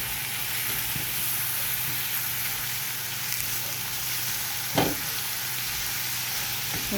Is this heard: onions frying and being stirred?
yes